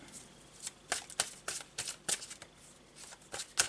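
Tarot cards are shuffled close by in a quiet room: a run of soft, papery riffles and slaps in uneven bursts, gentle and fairly faint, with no talking.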